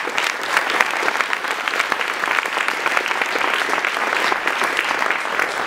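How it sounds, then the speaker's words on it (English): A prize ceremony audience for a new writing award gives a sustained round of applause, thick and continuous for nearly six seconds, with no voices rising above it. "Let's give a round of applause."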